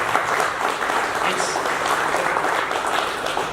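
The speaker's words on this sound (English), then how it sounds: "give a nice round of applause for Kenny Van Scoey" A crowd at an amateur boxing press conference applauds Kenny Van Scoey, a close, steady wash of clapping that fills the moment without letup.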